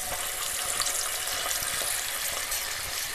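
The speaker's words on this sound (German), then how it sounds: "Anbraten und immer mal wenden" Chicken pieces searing in hot oil in a pressure cooker at a camping kitchen give a steady, close, hissing sizzle that runs without a break throughout.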